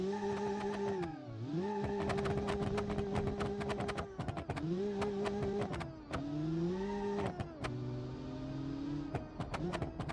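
A 260-horsepower car engine revs repeatedly, its pitch swooping up and down in smooth waves between sharp clicks and pops, close and loud throughout.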